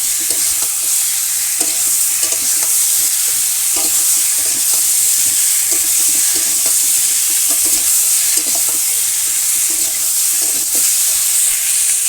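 Spices sizzle and sputter in hot oil for a snakehead fish and potato curry in a village kitchen, a loud, continuous frying hiss broken by scattered scrapes and taps of a stirring spoon.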